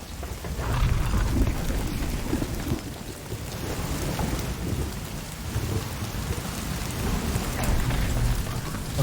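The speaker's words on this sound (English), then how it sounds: "that lightning doesn't sound good at all" Heavy rain pours steadily during a thunderstorm in the video game The Cycle: Frontier, with low rumbling thunder swelling and fading beneath the dense hiss of the downpour.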